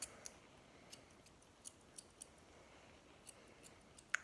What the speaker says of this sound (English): And if you have scissors, then you can just trim